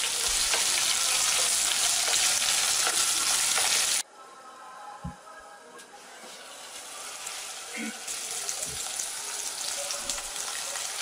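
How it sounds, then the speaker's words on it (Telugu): Onions and green chillies fry in a pan, a loud steady sizzle for the first four seconds that drops away, then builds back up with occasional stirring knocks. "సిద్ధం చేసుకున్న ఉల్లిపాయలు పచ్చిమిర్చిని కూడా అందులో వేసుకొని ఉల్లిపాయలు లైట్ బ్రౌన్ కలర్ వచ్చేంత వరకు వేపుకోవాలి."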